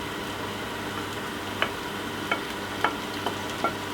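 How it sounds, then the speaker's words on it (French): Potatoes, onions and tofu sizzle in white wine in a pan, a steady soft frying hiss broken by a few sharp utensil clicks from stirring, close and alone with no voices. "Donc on mélange bien"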